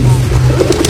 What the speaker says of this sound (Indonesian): Belakangnya tuh burung merpati banyak banget